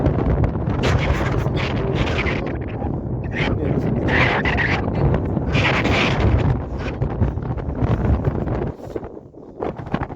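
Strong wind buffets the microphone in a steady, heavy roar outdoors on a road in Nepal, with a person talking over it.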